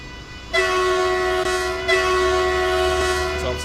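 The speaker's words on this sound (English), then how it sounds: "It's obviously got the same horn as the ice train." A German Deutsche Bahn train horn in Train Sim World 2, a loud sustained multi-tone blast sounding alone, briefly interrupted, then continuing over the steady rumble of the running train.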